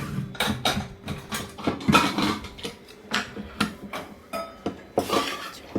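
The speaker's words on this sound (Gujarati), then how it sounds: "જો હવે મારી મમ્મી પાત્રા ગેસ પર" A pot of patra, steamed stuffed colocasia leaf rolls, set down on a gas stove, giving a run of close metallic clanks, clinks and knocks of cookware in irregular bursts with no talking.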